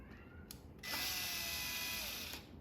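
A power screwdriver or ratcheting tool tightening screws on a Baja Designs Squadron or S2 light lens plate mounted on a vehicle, a quiet short whirring burst of about a second and a half after faint clicks.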